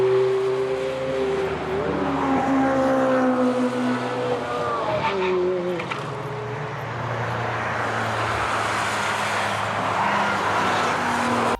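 A blue Ford car on a race track is heard, its engine note rising and falling through shifting revs, with tire squeal and a continuous roaring drone that stays loud throughout.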